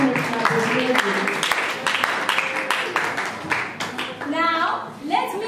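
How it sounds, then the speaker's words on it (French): An audience at a school closing ceremony in Uvira claps for a debate participant, a burst of applause mixed with a voice speaking loudly over it. "Dear House, let's clap for him."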